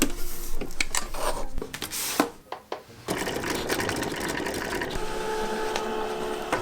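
A Cricut fabric cutting machine cuts smart iron-on material, giving a steady mechanical whirring and rasping with carriage movements and a brief quieter pause midway. No one speaks.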